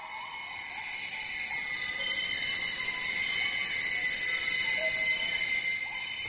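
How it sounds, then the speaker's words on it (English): Dense, continuous high-pitched calls of many frogs fill the rainforest night air, a steady shimmering chorus with overlapping trills and no voices. "And the animals are mainly frogs."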